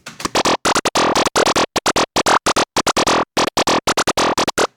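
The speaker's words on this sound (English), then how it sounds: "Next patch we're going with some FM, it sounds like this." A bright, buzzy FM synthesizer patch played in short rhythmic chopped notes with brief gaps, loud and close, no voices.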